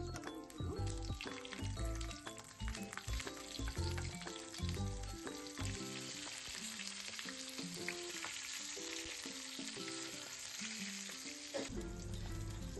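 Chillies sizzle steadily in a pan of hot oil tempering with cumin, mustard seeds and curry leaves, a continuous loud crackling fry with occasional stirring clinks.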